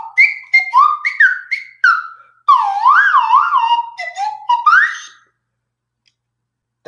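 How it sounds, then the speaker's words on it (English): Wolf whistle sound effect, a string of loud, close, shrill rising and falling whistles repeated in quick bursts for about five seconds before stopping abruptly. "Oh, we forgot the wolf whistle."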